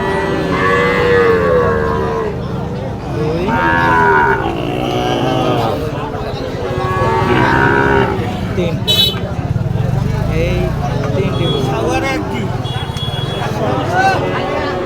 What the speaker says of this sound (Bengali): অনেক ধরনের গরু দেখেন কত গরু আমদানি